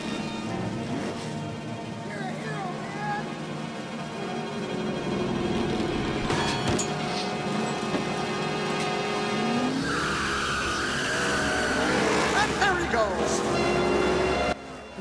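A cartoon tow truck's engine whines steadily while it backs up, then revs and speeds toward a ramp with tire squeals and rising engine pitch, against busy soundtrack and effects.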